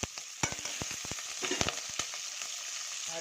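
Green chilies fry in hot oil with spices on a medium flame while making biryani, giving a close, crackling sizzle with irregular sharp pops and spits over a steady hiss.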